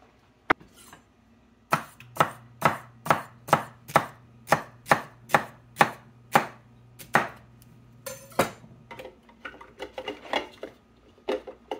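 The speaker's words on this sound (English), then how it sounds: "That's how it chops up celery" Celery being chopped in a kitchen chopper while cooking blue crab soup: a rapid, even run of about fifteen sharp chopping strokes, close and fairly loud, over a faint steady hum, then a looser scatter of smaller clicks.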